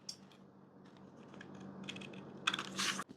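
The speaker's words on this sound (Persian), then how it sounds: "این قسمت اضافاتش رو قیچی میکنم." Scissors trim off excess fabric from a sleeve pattern at the sleeve cap, quiet crisp snips and rustling building to a few sharper cuts near the end, close up with no talking.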